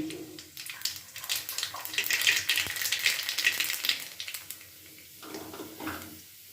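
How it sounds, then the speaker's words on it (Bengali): Nigella seeds hit hot oil in a wok and sizzle: a bright, hissing crackle that swells for a few seconds and then fades back to quieter frying. "কড়াইতে তেল গরম করতে বসিয়ে দিয়েছি তেলের মধ্যে দিয়ে দিলাম একটু কালো জিরে ফোড়নে"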